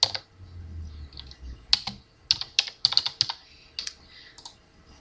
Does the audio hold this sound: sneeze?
no